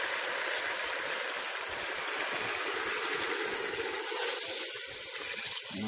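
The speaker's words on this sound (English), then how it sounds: "So now I am going to add the water." Steady rush of water pouring into a cooking pot with oxtail and beans, a continuous broadband splash with a brief louder surge near the end, no voices.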